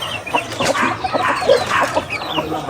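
Chickens clucking at feeding time at a camp, a close, busy flock with overlapping clucks and short calls continuing throughout, no talking.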